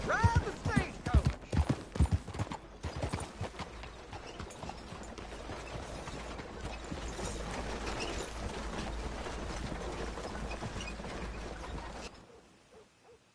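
Horse pulling a stagecoach in Red Dead Redemption 2, a run of distinct hoof clops at the start giving way to a steady rolling rumble of wheels and movement, then fading out near the end.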